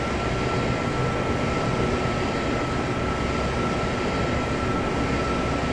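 A Class 465 electric train running on the line between Orpington and London Victoria in Train Simulator 2016, giving a steady, loud, continuous rumble with a faint sustained whine. The sound holds constant throughout, with no other sounds.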